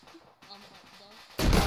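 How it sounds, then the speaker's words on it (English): A grenade in a WW2 shooter game goes off with a sudden loud, broad blast near the end. The moments before hold quieter game sounds. "there's another grenade, move"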